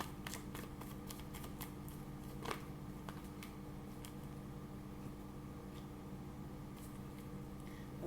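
Tarot cards shuffled and drawn during a reading, heard as faint, quick riffling and soft flicks in short bursts over a quiet room hum, with one sharper snap partway through.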